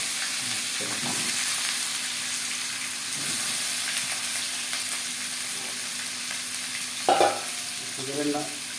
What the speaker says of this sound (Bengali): ফ্রাই করতেছি একটু করে হালকা করে ফ্রাই করবো এগুলো।